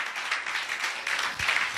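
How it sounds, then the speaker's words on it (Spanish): Church congregation applauding during a Spanish-language baptism sermon, a steady wash of clapping that stays moderately loud and even throughout. "Denle un fuerte aplauso al Señor"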